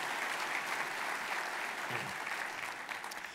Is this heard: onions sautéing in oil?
no